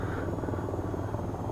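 Attack helicopter AH-94 in the VR flight game VTOL VR, a steady low rotor drone and rumble held at even loudness throughout, with no speech.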